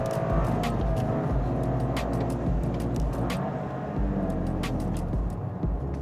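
A 2023 Toyota GR Corolla with a 6-speed manual and GR-Four all-wheel drive is heard from inside the cabin while driving. It gives a steady engine drone with road noise and occasional light clicks.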